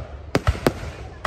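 Lunar New Year fireworks for the Year of the Cat 2023, with four sharp bursts popping at irregular intervals over a low steady background hum.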